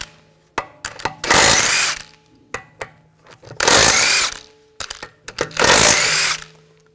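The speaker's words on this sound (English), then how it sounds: "Using a 17mm socket, take the lug bolts out." An impact-style power tool with a 17mm socket spins off lug bolts from a 2004-2009 Audi A4 Quattro's rear wheel: three loud, sustained buzzing bursts, each preceded by clinks and knocks of handling metal.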